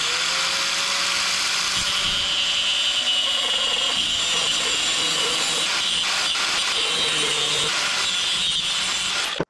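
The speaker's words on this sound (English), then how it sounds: "we're gonna use a grinder and we're gonna slot this hole" Angle grinder cutting a slot into a metal distributor clamp, a sustained high whine with harsh grinding that shifts in pitch as the cut proceeds, close and loud.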